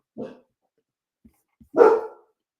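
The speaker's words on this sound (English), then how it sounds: "and Reese, of course, is barking." A dog barks twice: a short bark, then a louder, fuller one after a pause, with nothing else around it.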